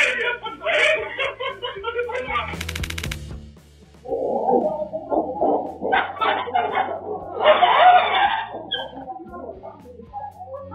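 A dog barks and yelps in quick, repeated bursts close by on a street, mixed with voices talking over it.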